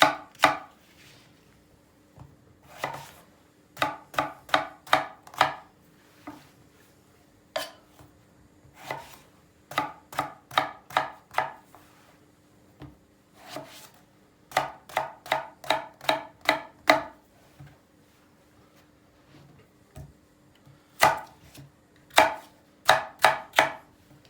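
A knife chops eggplants on a cutting board in quick, crisp runs of close taps, pausing between bursts, with no voices.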